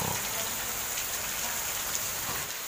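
Steady rain falls in an animated cartoon, a continuous even hiss of moderate loudness that lasts throughout with no clear breaks.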